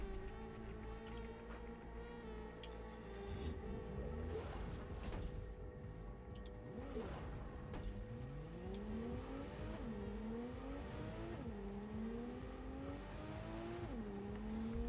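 Shein Wendigo car engine in Cyberpunk 2077, 520–570 horsepower, revving hard and accelerating with repeated rising pitch sweeps between gear shifts, loud and continuous throughout.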